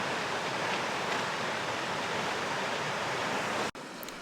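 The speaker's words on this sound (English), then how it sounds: "The sound of the Middle Fork, Kings River, grows louder with each step." Steady rushing water of the Middle Fork Kings River in the Sierra along the John Muir Trail, a loud, continuous broadband roar close by, with a brief break near the end.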